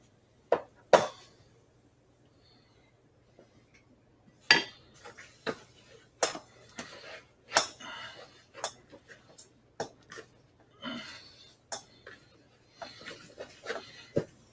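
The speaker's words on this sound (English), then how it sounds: "Now we are going to take and mix everything by hand." Homemade naan dough being mixed by hand in a bowl, heard as scattered clinks and knocks against the bowl with soft rubbing between them. Irregular, fairly close taps are spread across a quiet background.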